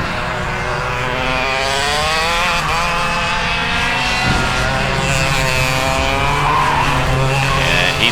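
Tag Junior racing karts on a final lap, their high-pitched engines whining loud and continuous as they pass close by, with rising and falling pitch through the corners.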